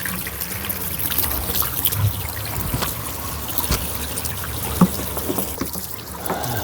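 Cold water runs and trickles steadily at a camper, a continuous splashing pour with one brief knock partway through and no talking.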